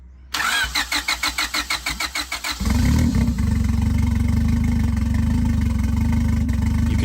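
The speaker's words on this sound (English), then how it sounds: "You can hear the engine running rough." A turbocharged Honda Civic cranks with a rapid rhythmic starter chug for about two seconds, then catches into a loud, uneven idle that runs rough and lumpy, close up with no talk.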